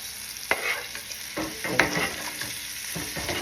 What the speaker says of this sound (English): Beautiful basting, just getting that thyme in there, mixing it in